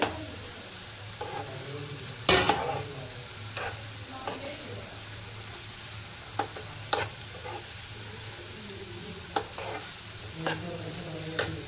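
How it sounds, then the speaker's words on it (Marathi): Onions cooking in a pan for spicy tomato bhaji, with a low steady sizzle under sharp intermittent clanks and scrapes of a spoon stirring against the pan, close and fairly quiet. "आता थोडा वेळ आपण वाफेवरती शिजून देणार आहोत कांद्याला"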